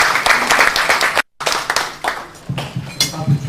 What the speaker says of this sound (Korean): 박수로 다시 한번 부탁드립니다.